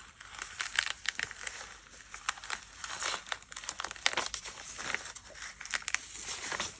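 Leaves are peeled away from eco-printed fabric with a continuous soft crinkling and light tearing, faint and close, irregular small crackles over about seven seconds with no talking.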